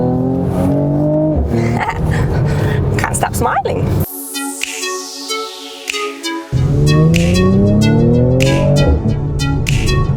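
A Mercedes-AMG C 43 Coupé with a 3-litre bi-turbo V6 petrol engine rises hard through the revs in repeated climbs, loud and close, with a short break before it pulls again. A voice speaks briefly over it.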